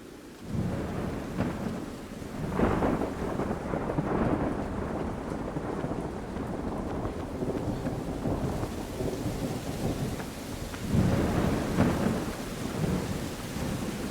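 Rain and thunder in the video game ICO: a constant hiss of downpour with deep rolling thunder that swells near the start, again around the middle, and once more late on, with no voices.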